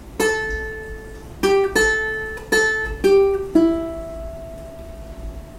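A ukulele plays the chorus melody of a song in a handful of clean plucked notes spaced about a second apart. Each note rings out close and alone, and the last one sustains.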